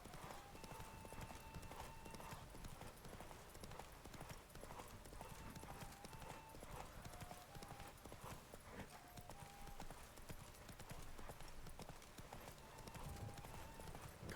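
Roach the horse galloping in a race in The Witcher 3, a fast, steady clip-clop of hooves running the whole time under a faint game music bed.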